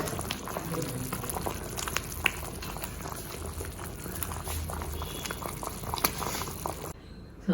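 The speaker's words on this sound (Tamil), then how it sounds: "இப்போ இது மண் சட்டியை கண்டு நல்லா கொதிச்சு தான் நிற்கும் அந்த கொதி" Mango-coriander kuzhambu boils steadily in a clay pot, a dense, continuous bubbling and popping close up that cuts off near the end.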